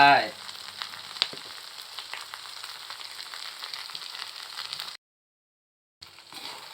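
Steady crackling sizzle of rat curry with kaffir lime leaves being stir-fried in a hot wok, with a few scraping stirs near the start, cutting off briefly near the end before resuming.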